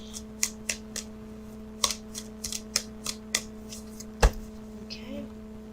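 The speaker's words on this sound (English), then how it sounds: "what I'm doing now is I'm shuffling for the outcome card" Tarot cards shuffled by hand, a quiet run of short, crisp card flicks and taps at an uneven rhythm, close up over a faint steady hum, ending in one sharper knock.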